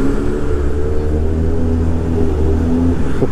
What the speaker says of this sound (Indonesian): suara motornya keren di belakang